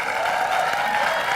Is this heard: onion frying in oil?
no